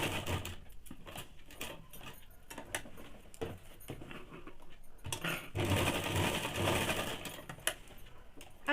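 A sewing machine runs stitches through fabric for men's underwear in uneven bursts, with clattering mechanical rattles and a louder, denser stretch of stitching toward the end.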